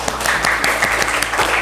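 A classroom of students claps together in a short, steady burst of dense applause during an Indonesian school lesson.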